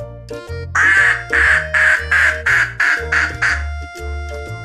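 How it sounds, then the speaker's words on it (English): A duck quacks loudly in a quick series of about eight honking calls, close and clear, with a low musical backing underneath. "It's a duck."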